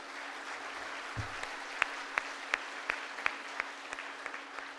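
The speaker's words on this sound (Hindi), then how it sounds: "तालियां कमज़ोर हैं आपकी साहब" Thin, sparse applause from the audience at a Holi hasya kavi sammelan, a Hindi comic poetry gathering: a handful of evenly spaced, distinct claps rise faintly over a constant low hum.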